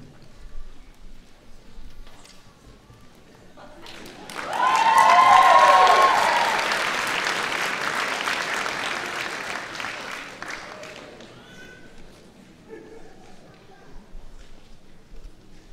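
Graduating class and guests applaud at the 2017 Hofstra Northwell School of Medicine commencement, a broad swell of clapping rising around the fourth second, peaking, then slowly thinning, with a speaking voice before and talk continuing beneath.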